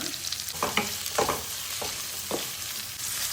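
Onions and green chilies frying in oil in a pan for beetroot palya, a continuous sizzle with a few scraping stirs, close and moderately loud, no voices.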